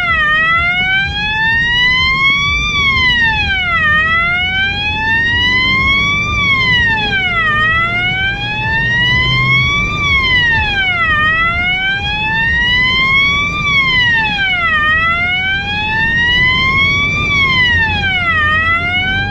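A loud emergency siren wails continuously, its pitch sweeping up and down in a steady repeating cycle, close by over low road rumble.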